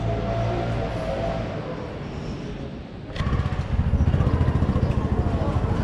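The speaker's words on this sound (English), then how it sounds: "Tuk-tuk army almost feels like I'm in India." Tuk-tuks putter along the streets of Lisbon's Alfama district with a near, buzzing small-engine drone, growing rougher and louder halfway through as one passes close amid general street noise.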